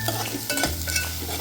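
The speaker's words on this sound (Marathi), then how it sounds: "पहिलं वाटण घातल्यावर ते व्यवस्थित ह्या खोबरं लसूणमध्ये मी परतून घेते" A spice paste with coconut and garlic sizzles and fries in a pan while a utensil stirs and scrapes it in short strokes, close and fairly quiet, with no talk.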